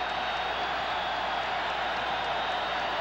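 Basketball arena crowd at a Missouri Tigers game cheering in a steady, dense roar that holds loud and even throughout, with no clear breaks or individual voices standing out.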